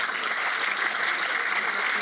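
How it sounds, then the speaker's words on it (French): Steady applause from a gathering welcoming new school staff, a dense wash of many hands clapping at moderate volume throughout. "Vous pouvez les applaudir."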